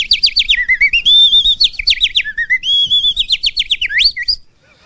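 A songbird chirps loudly and close, a rapid run of bright, repeated whistled trills and sweeping notes with brief pauses between phrases, then it falls silent.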